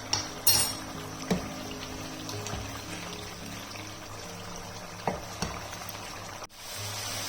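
Mutton frying with spices in a pan for a palak gosht dish, a soft sizzle with a few sharp clinks and a splash or pour near the start, steady and close without any talk.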